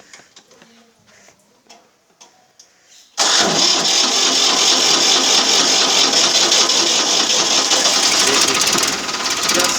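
A Ford 3600 tractor diesel engine cranks and fires, then settles into a steady, loud, close rumbling idle with a ticking mechanical clatter; faint voices and small sounds come before the start.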